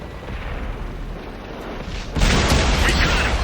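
A tank cannon fires in a tank battle game, a single heavy boom that jumps up sharply and hangs in a loud rumbling wash over steady engine noise.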